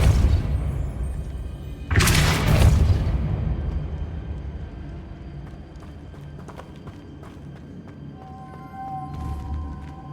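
A Depulso spell cast in Hogwarts Legacy bursts out as one loud, broad whoosh-boom, followed by quieter game ambience with faint clicks and a thin tonal chime near the end.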